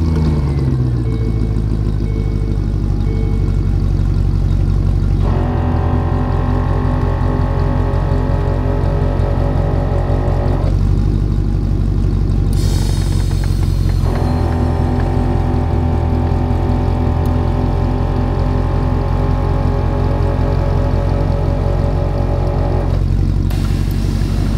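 A 1-ton-swapped Land Rover Discovery 2 on 37-inch tires runs loud and steady through its exhaust, the engine note shifting a few times as it idles and revs, with no voices over it.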